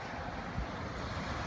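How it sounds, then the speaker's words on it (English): Wind-driven waves wash onto a bay shore in Ocean City, New Jersey, during a winter blizzard with flooding, a continuous rough surf roar mixed with gusting wind buffeting the microphone, no voices. "The wave action on the bay is fairly intense, but nothing like Sandy."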